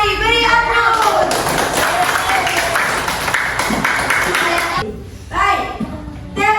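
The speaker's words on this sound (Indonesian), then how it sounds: "Mari beri aplaus." A class of fourth-grade children applauds in a lively burst of clapping for several seconds, then it drops away as a teacher's voice comes back in.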